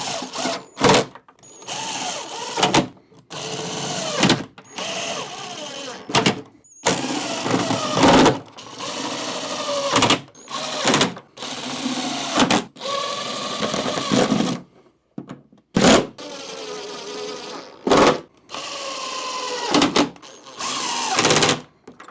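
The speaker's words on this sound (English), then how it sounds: "Now we're going to get all the other screws in." A power driver runs in repeated short whirring bursts, each followed by a brief pause, as screws are driven into an LD Systems ICOA-15ABT 15-inch powered speaker cabinet during reassembly; close and fairly loud, with no talk.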